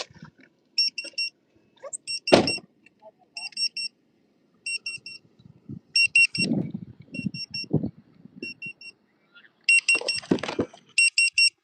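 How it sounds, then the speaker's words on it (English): A kitchen food buzzer sounds repeatedly in short bursts of sharp, regular electronic beeps. Faint movement noises come between the bursts, with a few louder knocks and thumps. "I hear my buzzer going off."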